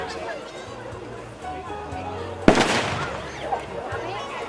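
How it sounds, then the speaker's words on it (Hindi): Firecrackers go off at a school annual day celebration, a single sharp crackling burst midway, under someone speaking over a loudspeaker throughout. "इन्हीं पटाखों के बीच"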